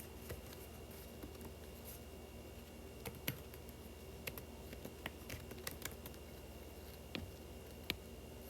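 Someone types on a computer keyboard in sparse, irregular keystrokes and clicks, faint and close, over a steady low hum.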